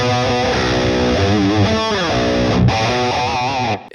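A loud distorted electric guitar through a Mooer Radar cab simulator with reverb plays sustained, bending notes with a washy, echoing tail, cutting off abruptly at the end.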